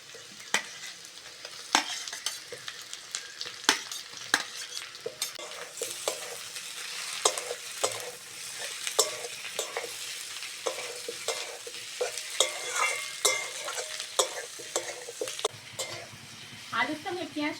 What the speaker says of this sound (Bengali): আলুর সঙ্গে পেঁয়াজটা ভালো করে ভেজে নিয়েছি